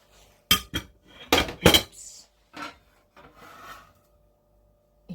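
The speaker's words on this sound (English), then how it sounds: "So that's the onions and the gammon gone into the bowl." Onions and gammon scraped into a bowl, a few sharp rasping clatters of utensil against the bowl followed by softer rubbing sounds, close and alone.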